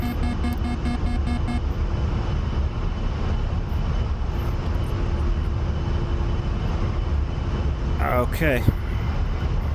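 Steady A-10 jet engine drone in flight in the DCS combat flight simulator, a continuous loud roar with a brief burst of cockpit sounds near the end; a voice speaks briefly over it.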